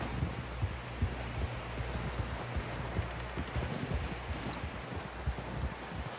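Horse hooves in the video game Red Dead, a continuous run of soft clip-clop beats with rustling and wind-like noise underneath, moderately quiet.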